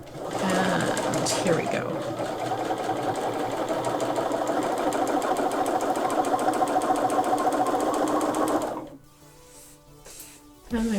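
A sewing machine stitches in the ditch along a Thanksgiving table runner, running steadily and loud for about eight seconds before stopping abruptly, with a brief spoken remark near the start.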